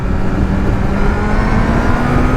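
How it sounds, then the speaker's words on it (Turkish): Car engine pulling hard under open throttle at the start of a group drive, a loud, steady, close roar with a low rumble and a faintly rising tone, no voices. "Buradan karşıya geçiyoruz ve gazlıyoruz."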